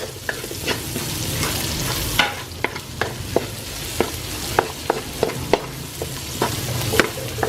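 Garlic and onion frying in a pan, a steady close sizzle broken by frequent sharp scraping and stirring clicks from a utensil, no talking.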